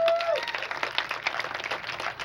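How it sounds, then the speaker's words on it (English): An audience at a football club awards event applauds, a steady patter of clapping from a room full of people, beginning under a brief voice and continuing alone. "Also, please clap for them."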